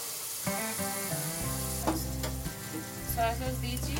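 Chicken sizzles in a hot pan with salt and a spoonful of soy sauce while cooking for chicken and prawn fried rice, a steady frying hiss with stirring beneath louder background music.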